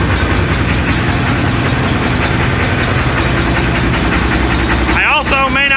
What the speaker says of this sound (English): we appear to be getting fuel to all 6 cylinders, but it's missing on an injector, I think.